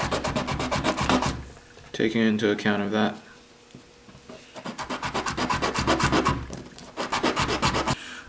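Rhythmic back-and-forth sanding of a tricopter frame part, quick rasping strokes in bursts close to the microphone, broken by a stretch where someone talks.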